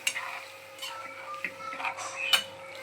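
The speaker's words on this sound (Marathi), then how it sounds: "आता आपण याच्यामध्ये ऍड करणार आहोत डायरेक्टली छोले जे आपण उकळून घेतलेले आहेत ते" Boiled chickpeas stirred into frying masala in oil for a Malvani chhole dish, with a low sizzle and intermittent scraping and clinking of a spoon against the pan, close by.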